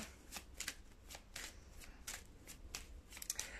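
Tarot cards being shuffled by hand for a reading, a run of crisp riffling bursts in an irregular rhythm, close and fairly quiet with no voice over it.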